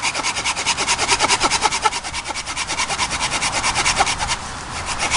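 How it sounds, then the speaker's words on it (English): Gerber folding saw cutting through a piece of poplar wood, brisk rhythmic back-and-forth rasping strokes, close and loud, with a brief pause near the end. "I'm just going to go ahead and cut through this piece of poplar."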